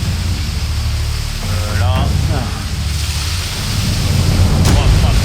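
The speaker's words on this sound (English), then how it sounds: "It's hammering 47 knots with hail on top of that." Loud, roaring 47-knot storm wind with hail at sea aboard a sailing yacht in the Bass Strait, broadband rushing noise and rough, turbulent gusts; a voice briefly calls out partway through.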